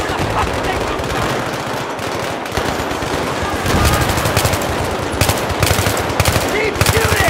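Battlefield 3 combat gunfire: sustained bursts of automatic weapons and scattered single shots, loud and dense throughout, with distant shouting mixed into the clamor.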